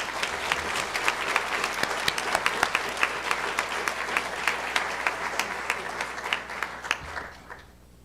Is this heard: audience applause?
yes